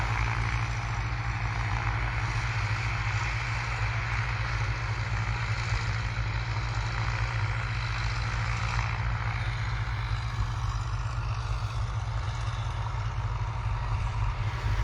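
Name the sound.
tractors driving over standing crops in a field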